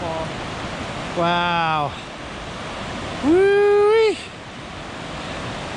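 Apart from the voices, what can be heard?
waterfall near campground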